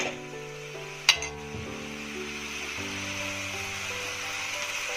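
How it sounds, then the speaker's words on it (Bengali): Spice paste for mutton liver kosha sautéing in a pan, with a sharp clink of a utensil near the start, then low steady sizzling and stirring scrapes under a faint background hum. "মশলাটাকে আমরা ভালো করে কষিয়ে নেবো"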